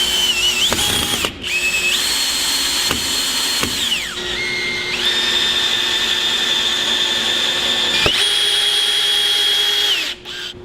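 A power drill drives long screws into a 2x4 while building a ramp, loud and close, its whine rising as the motor spins up and falling as each screw seats, with several short pauses between runs.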